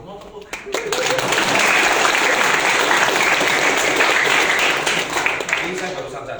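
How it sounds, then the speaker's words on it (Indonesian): Loud, sustained audience applause at an Indonesian community meetup, rising quickly after a few scattered claps into a dense roar of hands that holds steady, with voices faintly mixed in. "Dong tepuk tangan"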